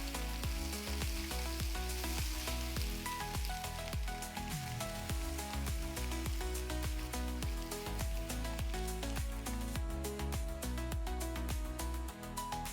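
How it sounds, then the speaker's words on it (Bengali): Boiled eggs sizzle in hot oil for a Bengali egg curry, a steady frying crackle throughout with faint music-like tones underneath and no talking. "একই তেলে আমরা ডিমগুলোকে ছেড়ে দিলাম"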